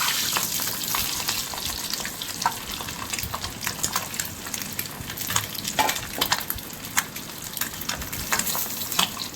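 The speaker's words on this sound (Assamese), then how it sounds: "এয়া এতিয়া মই তেলত কণী চাৰিটা ৰঙাকৈ ভাজি লৈছোঁ" Four eggs fry in hot oil with a steady, loud crackling sizzle and frequent sharp pops, close up and continuous throughout.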